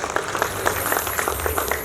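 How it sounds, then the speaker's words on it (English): A round of applause from the audience at a Lions Club inauguration ceremony, moderate steady clapping from a gathered crowd heard alone for about two seconds. "Can we give a round of applause to the people in front of us?"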